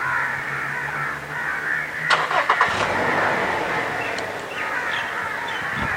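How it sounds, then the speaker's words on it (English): A 2017 Toyota Fortuner engine cranks and catches with a short burst of starter clatter, then settles into a quiet idle, while crows caw in the background outdoors. "Let's just start the car."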